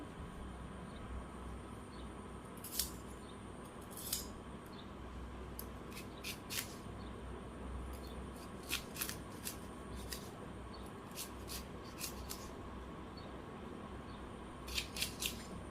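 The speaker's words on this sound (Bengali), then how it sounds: "আমি একটু কারকল কেটে নিই" Bitter gourd (karela) is sliced for a curry, giving a series of faint, crisp knife cuts scattered irregularly over a low steady background hum, quiet and close.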